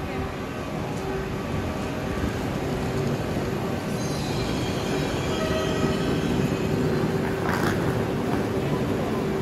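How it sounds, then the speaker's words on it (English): A train rumbles steadily through a station in Poland close by with a constant rolling roar, a brief metallic squeal partway through and voices murmuring faintly underneath. "you can get this train to the airport"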